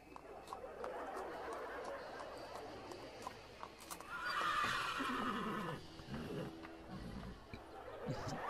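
A horse neighs in a mid-length whinny over faint background chatter and scattered knocks, fairly quiet overall.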